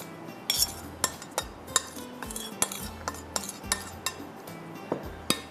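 Drumsticks being mixed by hand with butter and a spice marinade in a bowl, giving repeated sharp clinks and scrapes of utensils against dishware in an irregular rhythm, close and moderately loud with no talking.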